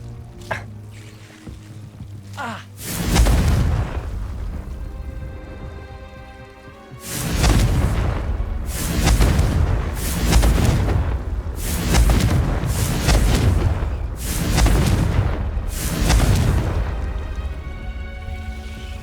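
Confringo fire-blast spells cast in Hogwarts Legacy, about seven loud booming explosions landing in a steady rhythm, each with a crackling tail that rings on until the next blast.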